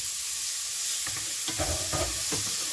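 Garlic and shrimp hit a hot pan with a steady sizzle and hiss, broken by several stirring scrapes from a utensil, close and moderately loud with no talk.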